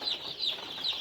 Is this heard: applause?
no